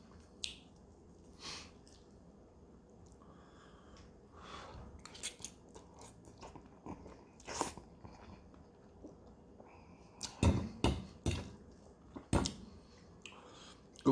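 Extra spicy Paldo Teumsae ramen is being eaten up close. Soft slurps and chewing come in irregular bursts, with a few louder crunchy bites and smacks near the end.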